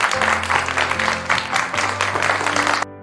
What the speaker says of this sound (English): Cue the applause.